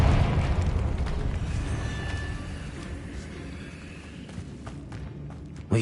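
A Confringo fire spell blasts in Hogwarts Legacy, a deep rumbling explosion that starts loud, rolls on and slowly fades, ending in a sharp thump.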